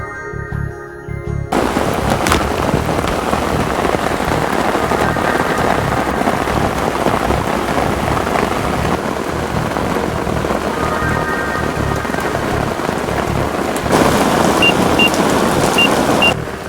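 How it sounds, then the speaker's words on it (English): Heavy rain pours down steadily at night by a carp fishing spot, a loud, continuous hiss with drops drumming on nearby surfaces and possible distant thunder, no talking. "Okay James, are you sure we're going to miss this rain?"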